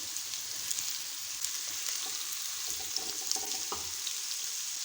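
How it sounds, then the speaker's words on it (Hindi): Potato pieces fry in a pan with a steady, even sizzling hiss, with a few faint clicks and pops scattered through it and no voices. "आलू हमारे ज़बरदस्त से फ्राई हो गए हैं।"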